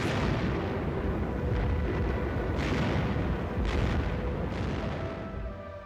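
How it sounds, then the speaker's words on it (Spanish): Heavy 88 mm artillery shells boom and rumble almost continuously during the Battle of the Bulge, with several sharper blasts breaking through a dense, roaring barrage that slowly fades at the end. "Las explosiones de los proyectiles de 88 milímetros destruían árboles"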